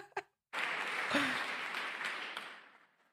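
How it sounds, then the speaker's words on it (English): An audience breaks into sustained applause, a dense wash of clapping that swells quickly and then gradually fades, with faint voices mixed in. "Do you see the women clapping"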